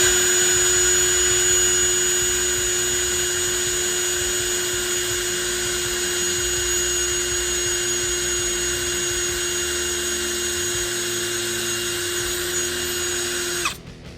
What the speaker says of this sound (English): So I'm gonna drill a pilot hole, then drill the bigger hole